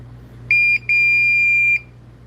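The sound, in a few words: Klein and Ideal breaker finder beeping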